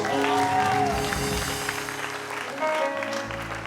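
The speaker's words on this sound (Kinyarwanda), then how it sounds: "Komera Imana amashyi." Indoors at a church service, a congregation applauds in a sustained wash of clapping while crowd voices and a held musical tone carry on beneath it.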